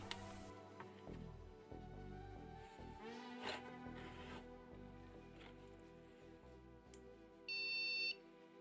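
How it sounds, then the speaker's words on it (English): A PC speaker on a 486 mainboard gives a short electronic beep near the end to signal missing memory; it is quiet overall, with faint clicks and handling noise before it. "we do have some postcodes as well as beeps, which signal the missing memory"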